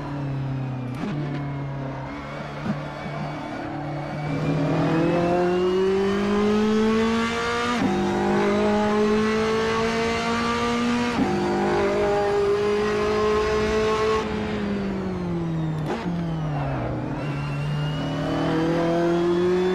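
A race car engine in the Assetto Corsa racing game revs high and steady for a long stretch, pitch rising through the gears with brief drops at shifts, loud and close with no talk.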